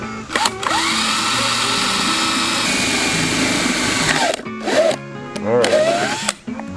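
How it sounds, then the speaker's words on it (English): A power drill whirs steadily for about four seconds, then stops; brief bursts and a voice follow near the end. "Okay, ready to drill? I'm gonna drill."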